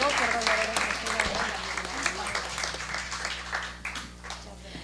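Audience applause at a forum on Mexican independence and women in Tabasco, a steady dense patter of clapping over a low room hum, lasting throughout with a murmur of voices mixed in.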